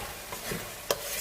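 Cabbage, carrot and capsicum being stirred in a pan, a soft scraping with a quiet sizzle underneath and one sharper knock of the spoon near the end, close and low in level.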